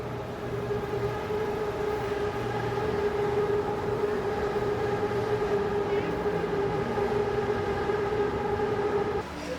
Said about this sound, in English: I suppose it is because of the noise from the trains